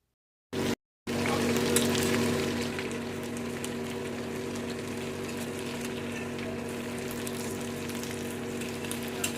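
Boiled potatoes and cauliflower fry in hot oil with a steady, close sizzle that starts after a brief burst and holds evenly throughout, with no talking over it.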